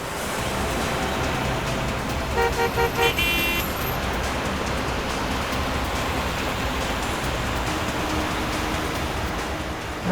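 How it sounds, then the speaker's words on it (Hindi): Heavy city road traffic roars as a constant loud wash of engine and tyre noise, with a short burst of several car horn toots partway through, no voices heard. "ट्रैफिक बहुत है"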